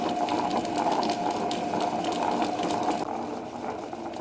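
A wet grinder grinding jackfruit papad batter, giving a steady mechanical whirring hum with a rapid rattling, ratchet-like texture. It runs continuously and fairly loud, easing slightly toward the end, with no speech.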